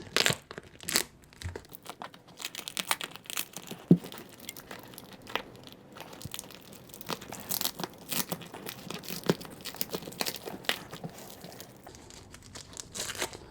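Wax-impregnated linen packaging around a 62-year-old jeep part is torn and peeled open, giving close, irregular crinkling, crackling and ripping sounds with sharp bursts at a quiet, intimate level.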